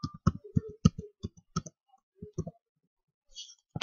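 A username being typed on a computer keyboard: quick irregular key clicks close up, clustered in bursts with short pauses, then a brief gap and a final click.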